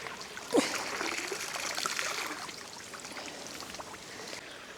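Water from a small waterfall in an overgrown garden pond at a country house trickles and splashes steadily, a soft continuous close-by flow with a brief louder splash near the start.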